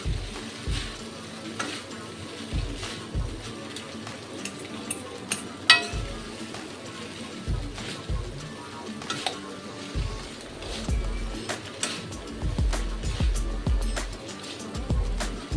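Ingredients frying and being mixed in a pan with very little oil, a soft steady sizzle broken by repeated scraping strokes and occasional light clinks of a spoon against the pan.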